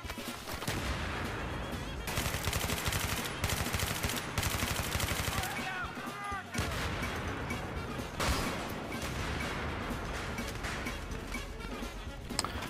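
G36 assault rifle fire in Battlefield 3, rapid bursts of loud, dense automatic gunshots repeating through the whole stretch with brief gaps, close and harsh over a busy battlefield.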